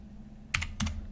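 A verification code is typed on a computer keyboard: a few quick, close key clicks in two small bursts over a low background hum.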